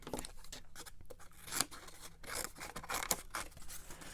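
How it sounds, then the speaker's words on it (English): Scissors snip through paper for a moose craft, close and fairly quiet, with several short crisp cuts and rustling paper between them. "I'm going to trim some of this away because that will make it easier to cut as well"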